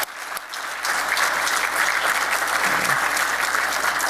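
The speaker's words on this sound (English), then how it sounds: "let's give them a hand of applause." An audience at an awards ceremony breaks into sustained, even applause for students, teachers and coaches, with dense clapping rising after a brief quieter start.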